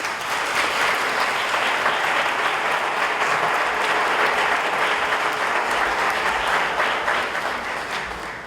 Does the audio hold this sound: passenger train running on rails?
no